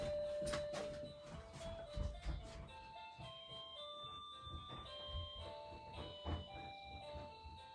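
A front-door doorbell chimes a melodic electronic tune of sustained, stepping tones, fairly faint with soft room noise around it.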